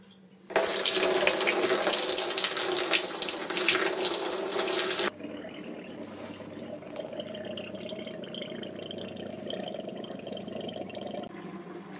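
Homebrew beer runs out of a fermenter tap in a loud, steady liquid rush for about four seconds, then gives way to a quieter, thinner trickle that continues to the end with no talk.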